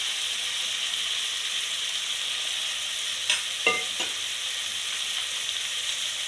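A spoon scrapes and stirs a chili-spiced mixture frying in a pan for Kannada-style gori kai palya, a few distinct clacks and scrapes over a steady soft sizzle, with no talking.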